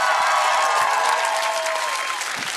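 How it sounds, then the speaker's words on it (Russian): Studio audience applauding at a televised singing contest after a song, a dense steady wash of clapping from a large crowd that carries on throughout without easing off. "аплодисменты, дорогие зрители."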